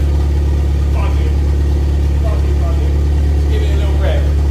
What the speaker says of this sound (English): This is the first time this car's had an engine in 15 years, and it is firing up